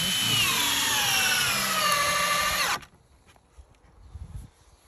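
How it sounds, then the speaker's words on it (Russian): A power drill drives a distance self-tapping screw into a roof batten, whining loudly for nearly three seconds with the pitch sliding as the screw bites, then cutting off abruptly into quiet background noise. "Мы закручиваем дистанционный саморез."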